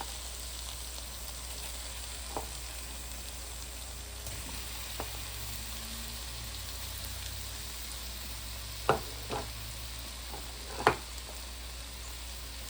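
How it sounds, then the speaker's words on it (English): Shrimp frying in salted butter in a pan while being stirred, giving a steady low sizzle throughout with a few faint utensil clicks and two sharper knocks near the end, no talking. "we don't want to cook these shrimps all the way. We just go ahead and stir them for about 2 minutes."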